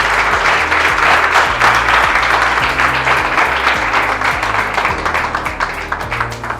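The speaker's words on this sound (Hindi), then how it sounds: "मैं चाहूंगा इन बच्चों के लिए एक बार जोरदार ताली।" A seminar audience claps loudly for students in a sustained wave of dense applause, while a low musical drone runs underneath throughout.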